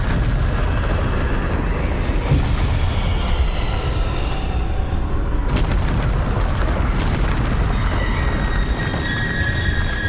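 Bombarda spell explosion in Hogwarts Legacy: a loud, dense roaring blast with a sudden burst midway, sitting within a continuous heavy rumble of game sound.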